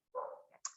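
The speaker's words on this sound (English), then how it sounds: "can you hear that dog barking?" A pet dog barks once or twice nearby in a short, loud burst, with a sharper higher yelp at the end, no talking over it.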